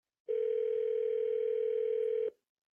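Telephone call tone, a single steady pure tone held for about two seconds, clear and alone before cutting off into silence.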